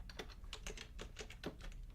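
Rapid typing on a computer keyboard gives a quick run of sharp, close key clicks in an uneven rhythm, with no talk.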